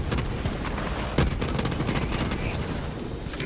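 Rapid, loud Flakker shotgun blasts from Borderlands 3 crackle in dense overlapping bursts of flak explosions, with one sharp heavier shot standing out amid the barrage.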